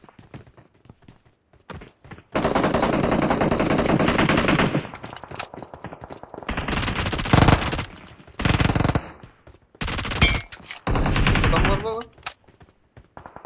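Gunfire from the mobile battle royale game PUBG Mobile crackles in loud automatic bursts and separate volleys, with excited players talking between the shots.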